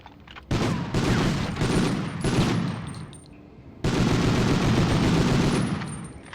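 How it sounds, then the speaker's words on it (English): Loud bursts of rapid automatic gunfire from the PlayStation 1 shooter Medal of Honor, two long sustained volleys separated by a brief quieter gap, with no talking over them. "Yeah, never mind all the gunfire."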